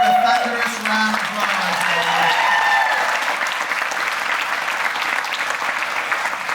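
Loud, sustained applause from an audience as a young performer returns to her seat, a dense wash of clapping with a voice briefly heard over it at the start.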